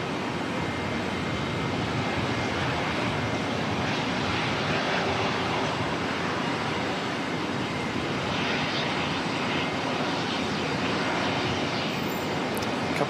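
A Jetstar airliner inbound from Christchurch at Auckland Airport, its jet engine roar a steady, broad rumble that holds at even loudness throughout, with no talk over it.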